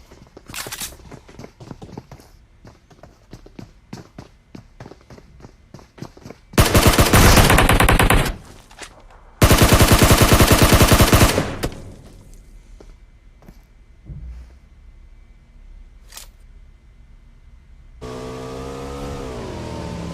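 Gunfire in the PUBG Mobile battle royale game: scattered single shots and rattling bursts, with two long, loud automatic volleys in the middle, then quieter footsteps and a vehicle engine near the end.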